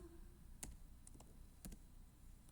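Quiet keystrokes on a computer keyboard tap out a few separate, irregular clicks against faint room hiss.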